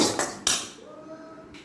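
A metal utensil scrapes and clinks against a pan as ground spices are stirred over a low flame, with a few sharp taps early on followed by quieter sizzling.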